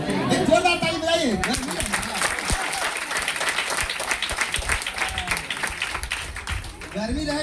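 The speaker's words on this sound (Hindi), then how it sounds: "एक जोरदार ताली बजाइए" Crowd at a public meeting in Patna breaks into loud, dense applause that fills several seconds, with voices and chatter mixed in and speech around the edges.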